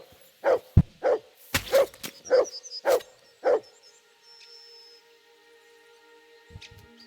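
Mutt the dog barks in Kingdom Come Deliverance 2, six sharp, evenly spaced barks close up and loud, then quiet with a few faint sounds trailing at the end.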